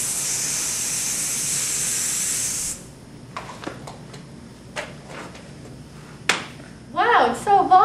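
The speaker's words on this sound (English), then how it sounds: "Hairspray." A single long hiss of hairspray from an aerosol can in a 1950s-style newsreel advert lasts close up for nearly three seconds, followed by quiet clicks, light taps and a voice at the end.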